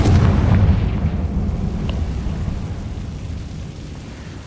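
Confringo blasting spell explosion in Hogwarts Legacy, a single loud close boom with a deep rumbling tail that slowly fades over several seconds.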